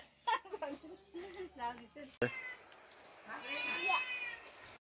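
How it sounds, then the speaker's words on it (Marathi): A domestic cat meows near a rural family home in the Konkan countryside, its plaintive call rising late in the clip after people talk nearby in a casual household setting. "ही आमची म्याऊ"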